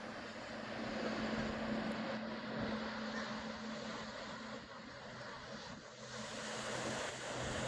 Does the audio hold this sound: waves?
yes